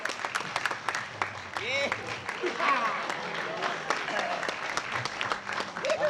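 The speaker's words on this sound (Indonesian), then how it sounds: "tepuk tangan buat yang merah" Studio audience applause on a TV quiz show plays as moderate, steady clapping under cheerful spoken voices and exclamations, with a short musical flourish in the middle.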